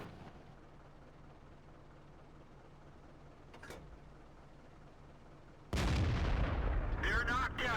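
A loud, sudden boom from an SU-101 tank destroyer's gun in the World of Tanks video game. It comes after a stretch of quiet ambient battle noise, and a brief muffled thud is heard partway through.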